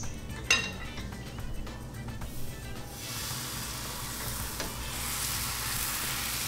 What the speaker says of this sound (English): So the crepes are cooking.